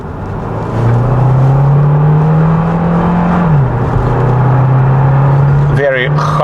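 Kia Sportage GT Line 2024 hybrid engine revving in sport mode, a steady loud drone that rises, drops and holds through the cabin, with a short sharp noise near the end.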